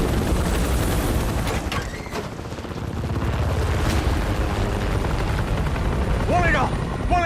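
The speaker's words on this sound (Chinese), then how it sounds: "敌3架武装直升机正在向你逼近" Three armed military helicopters approach along a national highway, their rotor noise a dense continuous roar with rumbling booms throughout, loud and building, alongside a few sharp higher whines near the end.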